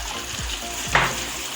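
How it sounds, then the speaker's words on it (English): Bolognese sauce bubbling and sizzling steadily in a pan, a continuous soft frying hiss close by with one brief sharper burst of spatter midway, no voices. "just let it cook and simmer for another 10 minutes"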